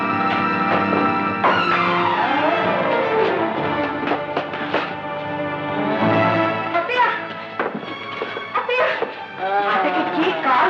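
Car skidding and crashing in a Telugu film scene with Chiranjeevi, long squealing tire sweeps and engine noise mixed with dramatic music and sharp impact hits, loud and busy throughout.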